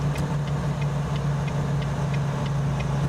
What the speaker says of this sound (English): Yes, Miguel, these are stock SCS sounds. I have not modded any engines into this.